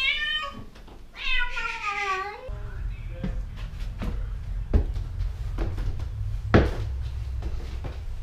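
A cat gives several drawn-out, wavering meows up front, then soft knocks and clatter of someone moving about indoors, like cupboards or objects being handled, with no talk heard.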